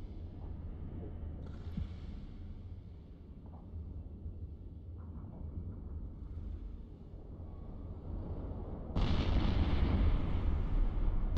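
Weapons fire from ships in the space game EVE Online, heard as a steady low rumble of distant booming blasts that swells louder near the end, with no voices over it.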